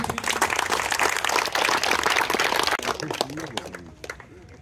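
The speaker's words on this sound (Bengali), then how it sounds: "একটু জোরে হাততালি।" An audience at an inter-ITI cricket tournament semi-final applauds with a dense, sustained burst of clapping that thins out toward the end, with faint voices underneath.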